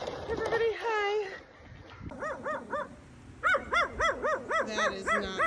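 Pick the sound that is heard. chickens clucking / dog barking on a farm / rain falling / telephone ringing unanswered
dog barking on a farm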